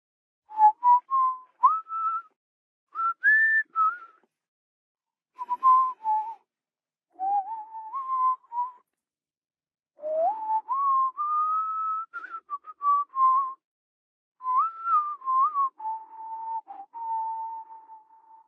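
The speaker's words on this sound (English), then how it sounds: "I'll leave you with what I think is McCree's idle sound from Overwatch's sound library" McCree's idle whistling from Overwatch: a melodic whistled tune in short phrases separated by pauses, clear and close, with each phrase rising and falling. No other sounds or talking.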